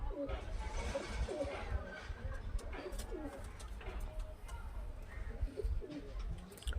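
Murshidabad Kakji and Sabuj pigeons coo in soft low throaty phrases amid a noisy background hum, faint and somewhat masked throughout.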